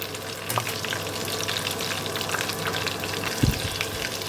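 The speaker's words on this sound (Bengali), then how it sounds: "এখন আমি এই ফোড়নটাকে তিন চার সেকেন্ডের মতো একটু ভালো করে ভেজে নেব" Garlic and green chilli tempering frying in hot oil for a raw green tomato dish, a steady close sizzle with occasional stirring clinks and one sharper knock near the end, no talking.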